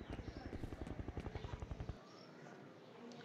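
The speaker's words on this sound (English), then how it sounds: "Okay, so this is maybe our helicopter." A helicopter in the video game F.E.A.R. gives a steady, rapid rotor thumping for about two seconds. The rotor then cuts off and leaves a quieter background hum.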